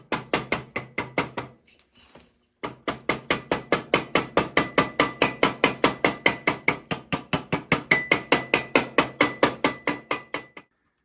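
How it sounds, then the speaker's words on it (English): A rubber hammer strikes the stuck cylinder of a 1975 Yamaha DT125B motorcycle again and again in a fast, even rhythm of sharp, close knocks. There is a short pause near the start, then a long steady run of blows that stops abruptly. "So I'm hitting it with the rubber hammer,"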